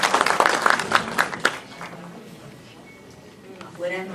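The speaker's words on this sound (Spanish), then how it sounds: "Un aplauso." Applause breaks out for a speaker at a solemn anniversary session, a dense burst of clapping for about a second and a half before fading into room noise and the start of talk.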